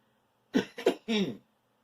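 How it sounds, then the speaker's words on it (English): Three quick coughs, close and fairly loud, the last one drawn out and raspy, then silence. "Somebody don't like that because they make me cough."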